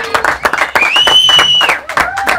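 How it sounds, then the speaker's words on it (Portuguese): A small group at a backyard pork-belly barbecue gives scattered, close-up hand claps along with a rising whoop or whistle of cheering, loud and uneven over about two seconds. "Uma salva de palmas!"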